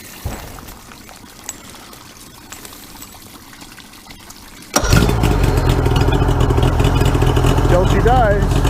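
A Mercury outboard motor being restarted after fogging for winter storage fires up abruptly midway through, then runs at a loud, steady idle after a quieter stretch of low background noise.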